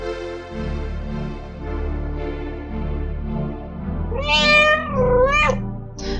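Cat meowing in the video game Echo of the Fey, two clear, drawn-out meows with rising and falling pitch near the end, over a steady low game music bed.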